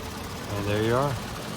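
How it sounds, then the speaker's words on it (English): A 2021 Toyota Highlander engine idles with a smooth, steady low hum while someone talks over it at close range. "Engine sounds great. Sounds like a sewing machine"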